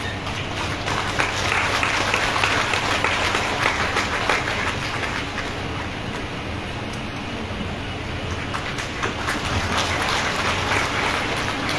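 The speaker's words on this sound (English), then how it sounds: "Please give a big round of applause for Shri Purno Chandra Jamatia" A large audience applauds at an official public event, a continuous wash of clapping that stays fairly loud and even throughout.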